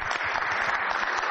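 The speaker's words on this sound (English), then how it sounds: "Give her an applause" An audience applauding, a short burst of dense, even clapping heard alone.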